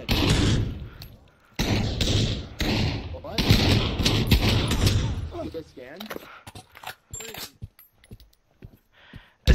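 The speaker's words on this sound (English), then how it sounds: "There's a guy on the roof shooting." Gunfire in the virtual-reality shooter Pavlov VR: bursts of rapid shots and thuds mixed with players' overlapping voices and chatter, thinning into scattered sharp pops toward the end.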